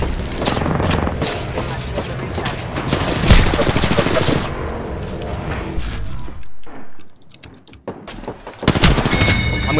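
Rapid bursts of gunfire from a team-based shooting video game crackle almost continuously, loud and dense, with a heavy blast near the middle and a brief lull before the firing resumes.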